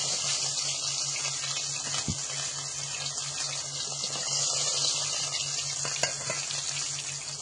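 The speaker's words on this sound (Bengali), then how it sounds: "আর একটু এরকম ঢাকা দিয়ে দিয়েই আর ভেজে নেব" Fish frying in a covered pan, a continuous even hiss and sizzle heard close, with one dull knock early on and a faint tick later.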